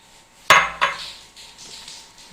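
Utensils clink and scrape in a bowl as mango pieces are folded into homemade mango ice cream mixture, two sharp knocks close by followed by softer stirring scrapes.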